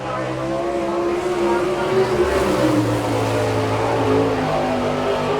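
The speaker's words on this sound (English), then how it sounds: "the first lap for Kevin Huntley." A sprint race car with a Gurney racing engine and Beaverbilt chassis at a dirt oval in Chillicothe, Ohio roars through its first lap, engine pitch rising and falling steadily as it passes, with an announcer talking over it.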